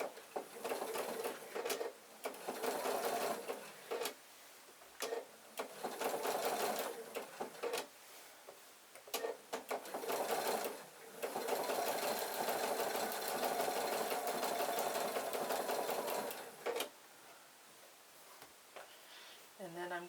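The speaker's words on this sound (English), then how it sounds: "I'm going to sew back to where I started." A sewing machine stitches a quilt block in repeated runs of fast, even whirring, starting and stopping several times with short pauses and clicks between bursts, with quiet talk in the gaps.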